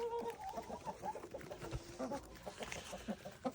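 Backyard hens clucking softly as they gather at calcium feed, short murmuring clucks scattered through the moment, faint and close, with a person's voice now and then.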